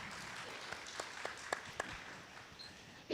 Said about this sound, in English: Big round of applause for Raju,